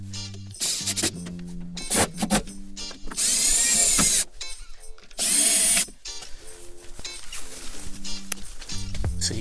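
A power drill tightens bolts on a Jeep tailgate security lock box in two loud, sustained high-pitched whirring bursts, separated by short clicks and handling noise, with a person talking in between.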